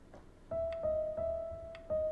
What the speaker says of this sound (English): You really need to stay in time with the metronome